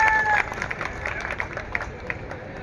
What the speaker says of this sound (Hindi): एक बार जोरदार तालियां आपके हैं।